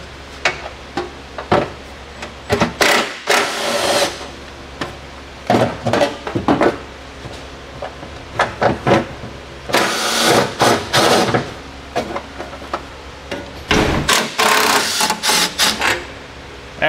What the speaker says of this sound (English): We'll remove with a 10 millimeter socket or nuts on some studs we're going to take off of there.